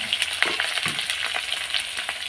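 Onion and green chili sizzle in hot oil tempered with nigella seeds in a home kitchen, a steady close crackling fry with occasional stirring scrapes.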